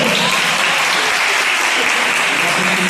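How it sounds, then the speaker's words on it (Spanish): Steady, dense applause from an audience at a Peruvian cajón performance, loud and continuous throughout with no pauses. "un fuerte aplauso, por favor"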